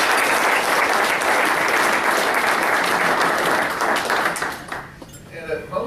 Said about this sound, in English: it's worth giving him a round of applause as well